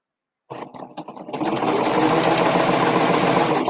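A serger sewing machine stitching fabric, starting with a few short stuttering bursts and then running at a fast, steady, loud whir close up until it stops abruptly.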